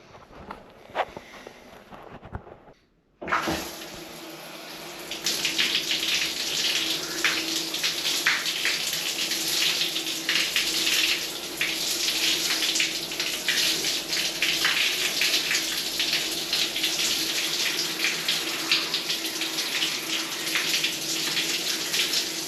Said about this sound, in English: the first thing you do is get directly into a cold shower.